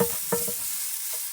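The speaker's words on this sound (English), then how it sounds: "cooking burgers" Burgers sizzle on a homemade skillet made from a homemade pizza oven with its top removed. A steady, close frying hiss runs throughout, with a few soft clatters near the start.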